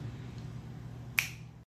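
A single crisp finger snap rings out once near the end of a quiet indoor stretch of faint low hum, sharp and close, then fades quickly.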